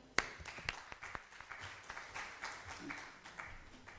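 Scattered applause at a prize ballot ceremony in Islamabad, with a few sharp individual claps at the start, then a light, uneven patter of hands from a modest audience in a hall.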